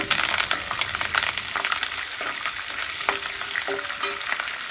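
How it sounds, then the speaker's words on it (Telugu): Oil sizzles and crackles steadily as curry leaves and dried red chillies fry, with a dense hiss and scattered pops close by, and no voices. "ఇవి కూడా బాగా వేపేస్తున్నాను"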